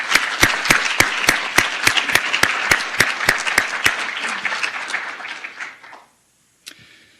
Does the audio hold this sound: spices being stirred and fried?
no